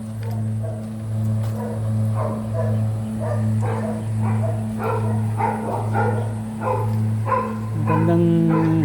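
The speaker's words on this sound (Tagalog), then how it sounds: "Nakatakot lang, may aso." A dog on a farm in the rain gives a run of repeated barks and yips at a moderate distance over a steady low droning hum, with the barking growing busier toward the end.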